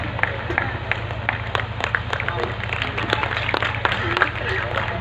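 An audience in a hall claps for a poetry recital, a dense, continuous patter of many hands with crowd murmur and voices mixed in underneath.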